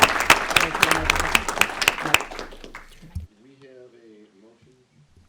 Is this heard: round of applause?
yes